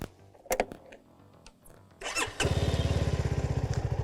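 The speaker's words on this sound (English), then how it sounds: "let's fire it up and hear the exhaust note" A Keeway K300R motorcycle gives a few clicks and thumps, then the starter whirs and the engine catches into a close, loud, rapid, pulsing exhaust beat at idle, with no talking.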